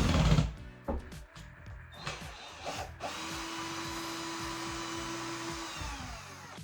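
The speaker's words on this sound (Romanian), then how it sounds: "Eu o să desfac acum șuruburile, cele 4 de aici" A close, steady electric screwdriver or drill whirs for several seconds, taking four screws out of a wall switch during a 220V 16A in-wall smart WiFi switch fitting. Brief knocks and handling come first.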